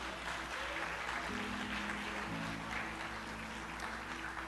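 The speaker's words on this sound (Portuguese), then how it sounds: "Você pode aplaudir a Jesus." A church congregation applauds during a Friday evening sermon, a steady wash of many hands clapping at moderate distance that holds for several seconds, with no one speaking over it.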